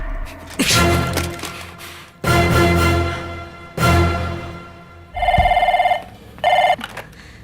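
An old-style telephone bell rings in a film scene, sounding in several long rattling bursts. Near the end a couple of shorter electronic ringtone pulses follow, with no talk.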